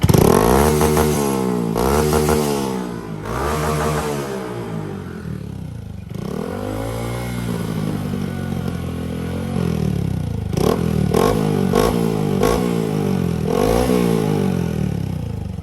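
A 2022 Honda Grom motorcycle with a new exhaust revs and rides, its engine note rising and falling in repeated loud accelerations, close and continuous with some rattling clatter.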